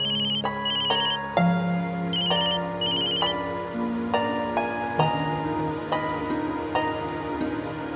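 A phone ringtone plays a repeating electronic melody with bright chiming notes, steady and fairly loud, with no talking.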